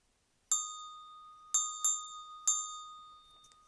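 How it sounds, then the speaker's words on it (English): A small bell is struck four times at irregular intervals. Each clear, bright ring hangs on briefly in an otherwise quiet room, with no talking. "I'm going to ring this bell"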